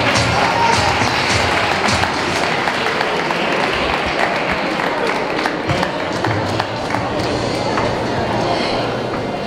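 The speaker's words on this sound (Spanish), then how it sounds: "Un fuerte aplauso para Diego." Crowd applause for a prize winner on stage at a Piñata Sunday festival, steady dense clapping that fills the whole stretch, with a speaking voice and crowd noise mixed in.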